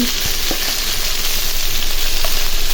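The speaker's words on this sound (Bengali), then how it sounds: "কাঁকরোলটা ভালো করে এখন মশলার সাথে কষিয়ে নেব, পেঁয়াজ মরিচের সাথে।" Teasel gourd frying in spice masala with onion and chili, a loud, close, continuous sizzle with occasional light stirring clicks and no talking.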